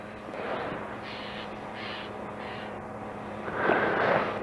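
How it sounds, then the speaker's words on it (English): A bird, crow-like, cries outdoors in snowy mountains: several short harsh calls spaced apart over a quiet windy background, the last call louder and closer. "And every now and then, a little cry of a bird"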